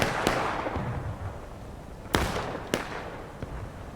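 Gunshots in the Civil War shooter game War of Rights, three or four sharp cracks spread over a few seconds, the first faint and distant, two louder ones close together near the end, against a rushing background.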